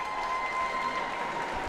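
A crowd at a hockey game between the Cataracts and Red Wings applauds, a dense, even wash of clapping heard from within the arena, with no clear pauses over the short stretch.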